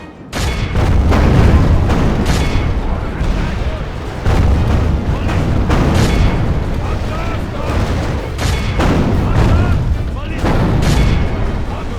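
Dense, continuous battlefield din of heavy booms and artillery blasts from a Total War Medieval II siege battle with ballistae and bombards firing, loud and sustained for the whole stretch, with shouted commands mixed in.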